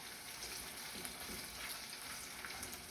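Potatoes frying in a pan until crispy give a steady, close hiss and sizzle with fine crackling spatter throughout, without any voices.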